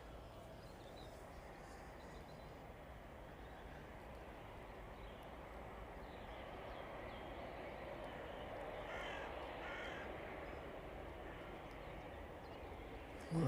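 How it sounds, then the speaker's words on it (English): Crows caw faintly amid steady outdoor rumble at an airport, the calls scattered and distant while a jet engine drones in the background. "A lot of bird activity around us."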